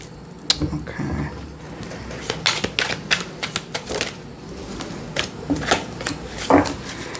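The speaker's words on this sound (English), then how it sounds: "I take it by sections and I riffle shuffle each of those sections" An oracle card deck is riffle shuffled in sections, giving several bursts of rapid, fluttering card clicks close up, with someone talking in between.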